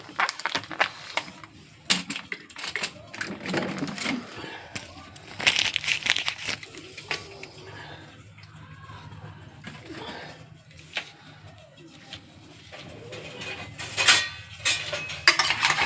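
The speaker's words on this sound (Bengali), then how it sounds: "এবার ভালো করে মাংসটা মাখিয়ে নেব" Chicken meat being mixed with spices by hand for a dry chicken kosha: close, intermittent squelching and crinkly crushing sounds in irregular bursts, with a voice speaking now and then.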